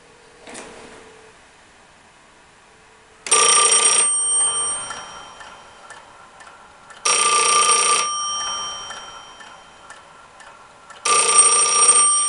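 Vintage Western Electric 620A2 key telephone system ringing: three loud bursts of bright electromechanical bell ringing, each about a second long, separated by quieter pauses with faint hum and clicks.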